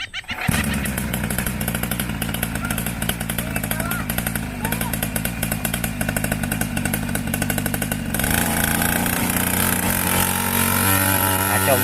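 A motorcycle engine runs with a loud, rapid putter, then revs up and rides off, the tone shifting as it pulls away; people talk and shout over it.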